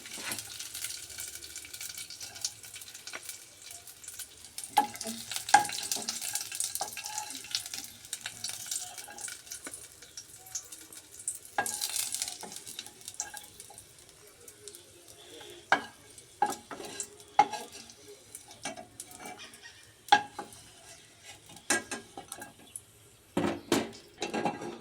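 Vermicelli fries in a pan with a soft, low sizzle while a spoon stirs and scrapes, giving scattered sharp knocks and clicks against the metal. The sound stays close but fairly quiet throughout.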